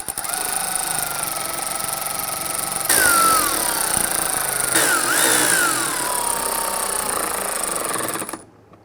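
Power tool driving bumper cover screws on a 1994-2004 Ford Mustang, a close whirring drive with rising and falling motor pitch over two short bursts before cutting off.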